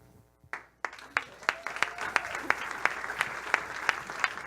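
A live audience applauds after a startup pitch at a Powderkeg event in Indianapolis, sharp individual claps building into steady, fairly close clapping after a brief quiet start.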